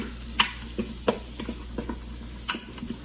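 Carnitas cook in a pot with a soft, steady bubbling sizzle. Sharp clinks and scrapes of a utensil against the pot recur every half second or so, close by and with no voices.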